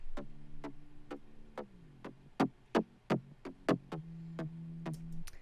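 Punchy bass hits in a steady repeating pattern, each with a sharp attack and short sustained low tone, loud and close with no voices.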